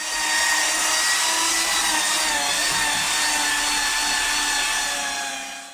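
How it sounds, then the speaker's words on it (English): A car polisher with a fairly hard foam head and fast-cut compound whirs steadily on the painted tailgate of a Vauxhall Nova SR, a loud, close, continuous motor drone with a slight fade at the end. "So I'm going to start with a fast cut and a fairly hard foam head for the polisher."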